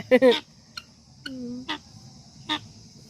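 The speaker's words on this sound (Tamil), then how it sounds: "எங்கள் வீட்டு அழகிகள் எங்கள் கின்னிக்கோழி மூணும்" Harsh, honking guinea fowl calls in short bursts, a few cries spaced across a quiet background with a steady high hiss.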